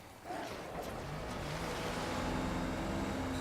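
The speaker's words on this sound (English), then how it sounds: "Get on the blasted jet ski." Jet ski skimming across water in the video game Far Cry, a steady engine drone with splashing water rolling on for a few seconds, no talk over it.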